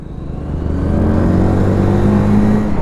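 A Pulsar 220 BS4 motorcycle climbs an off-road slope in second gear, its engine droning loud and close with a steady rising rev, alone without talk.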